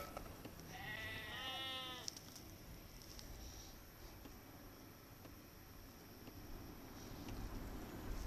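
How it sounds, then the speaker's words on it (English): Sheep bleat in Age of Empires II, a short burst of several quavering bleats near the start, heard over a steady game ambience of wind-like background noise. "I've discovered some sheep."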